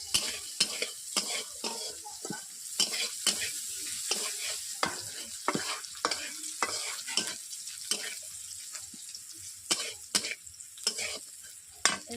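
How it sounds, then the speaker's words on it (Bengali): Onions frying with salt in a pan give a quiet steady sizzle broken by repeated scraping stirs of a spoon at close range, with no talking. "পেঁয়াজ গলে যাওয়ার জন্য অল্প করে নুন দিয়ে দিচ্ছি।"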